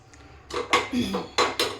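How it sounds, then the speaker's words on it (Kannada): A metal pressure cooker clanks a few times as it is set on a stove, a couple of sharp knocks and scrapes close by, with no talking. "ಸ್ಟವ್ ಆನ್ ಆಗಿದೆ, ಕುಕ್ಕರ್ ಇಡ್ತಾ ಇದ್ದೀನಿ."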